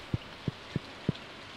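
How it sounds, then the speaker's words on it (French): Rain in the farming game Stardew Valley: four soft, low, evenly spaced drops or taps at roughly third-second intervals over a quiet bed of steady hiss, with no voices. "Ah, il pleut."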